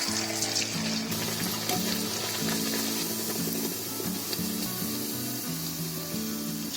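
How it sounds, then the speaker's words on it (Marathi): A vada-style puri is dropped into hot oil and fries with a steady, close hiss and sizzle. A low, tonal hum runs beneath it the whole time, and no one speaks. "आता आपलं तेल तापलंय, त्याच्यामध्ये ही पुरी सोडायची."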